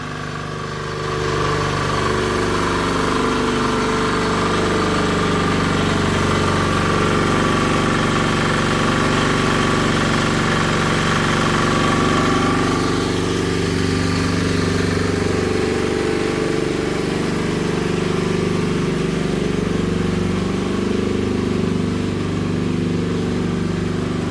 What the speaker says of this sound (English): They show you the generator running. Very loud.